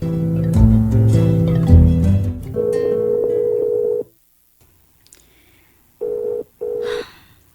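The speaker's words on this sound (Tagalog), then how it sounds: "Sige raman og ring ang cellphone ni Father." A priest's cellphone rings in a drama. A loud steady electronic tone sounds after a busier stretch of tones, then falls silent before two short repeated beeps.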